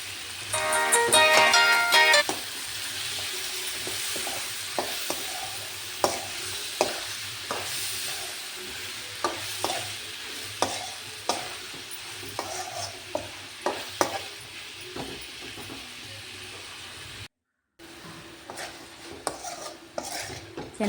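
Four finely chopped tomatoes with a little salt fry in a pan for tomato bath, a soft steady sizzle under repeated spoon scrapes and clinks that tap out an uneven stirring rhythm, close and fairly loud.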